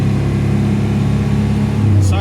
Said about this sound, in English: Sorry about that roaring of the engine.